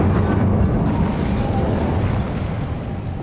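The Incendio fire spell from Hogwarts Legacy lets out a loud, rumbling burst of flame that swells at once and then roars steadily before slowly fading, with no talk over it.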